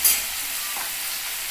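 Bitter gourd and pumpkin hitting hot mustard oil, a steady bright sizzle that swells briefly at the start and then holds evenly, close and without talk.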